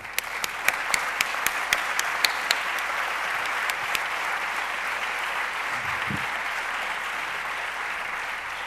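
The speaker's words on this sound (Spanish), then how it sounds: "Pido un aplauso para que él se emocione." An audience at a talk on nationalism and democracy breaks into steady applause, a continuous bed of clapping with a few sharper, louder claps standing out early on, and no speech over it.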